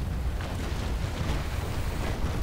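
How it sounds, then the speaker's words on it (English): A ship's cannon broadside in the Naval Action video game, heard as a steady, heavy rumbling roar of blended booms with no distinct separate shots, loud and continuous throughout. "that broadside was quite disappointing"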